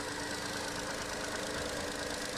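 Small engine of a Skoda Fabia Wagon with about 33,000 km, running at idle after a cold start: a steady, even mid-range hum with a faint knocking texture, continuous and close, with no talk over it.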